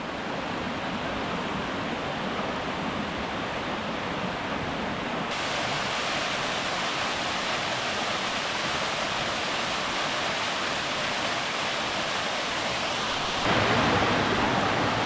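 A creek in the Upper Buffalo Wilderness rushes over rocks, a loud, steady broadband wash of flowing water heard up close with no pauses, its tone shifting slightly partway through.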